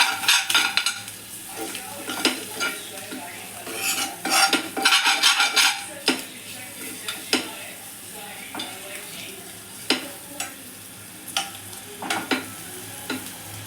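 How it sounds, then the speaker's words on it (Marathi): A utensil scrapes and taps against a pan in irregular strokes while eggs fry and sizzle underneath, loud and close. "थोडंसं फ्राय झाल्यानंतर असं पूर्ण फ्राय करून घ्यायचं."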